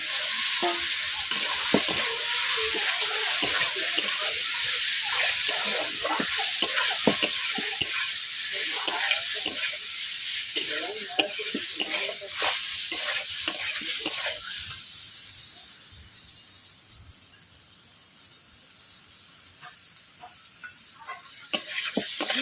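Boiled potato pieces stirred into spiced masala sizzling in oil for a Bengali rui fish curry, steady crackling fry with repeated scraping strokes, easing to a softer simmer in the latter part.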